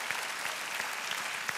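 A short burst of dense audience applause follows a musical interlude at a panel event on social media and polarization, with many hands clapping steadily and a few sharper claps standing out.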